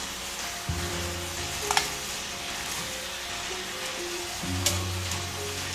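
White wine sizzles in a pan with a medley of vegetables for a Jamaican curry chicken dinner, a steady frying hiss with occasional stirring scrapes and clinks throughout.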